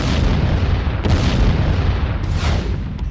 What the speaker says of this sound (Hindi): ईरान के बैलिस्टिक मिसाइल हमलों से दहल उठा बेरशेवा।